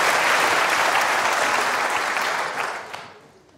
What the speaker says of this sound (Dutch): Applaus, dames en heren.